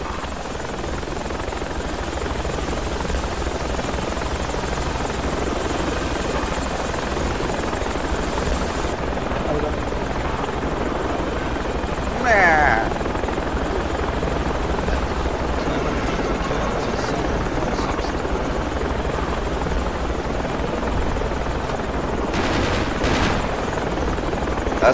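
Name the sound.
helicopter flying in Project Reality video game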